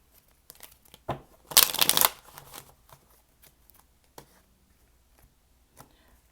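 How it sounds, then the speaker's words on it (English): Tarot cards riffle-shuffled by hand in a quiet room: one dense papery burst of shuffling near the middle, with a few soft card taps and clicks before and after. "I don't know why I'm shuffling like this, guys."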